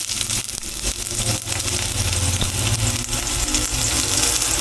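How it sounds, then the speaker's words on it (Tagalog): Steady, dense sizzling of onion and garlic sautéing in a hot pan, loud and continuous throughout with faint clinks underneath. "igigisa na natin rather ang ating sibuyas at bawang"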